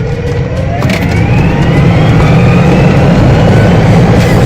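Car engine revving hard at full throttle in a video game, a loud, steady drone with rising tonal whine, no talking over it.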